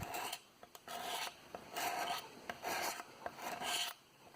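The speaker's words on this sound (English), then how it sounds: "I'm going to use just a sharp blade and literally scrape it, kind of like this" A sharp blade scrapes material by hand, taking off shavings: close, raspy strokes of about half a second each, repeated roughly six times with brief pauses between them.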